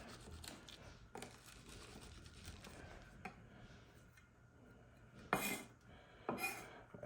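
Chopped fresh garlic pressed flat with a knife on a cutting board, soft scraping and squishing followed by two sharp metallic knife clacks near the end.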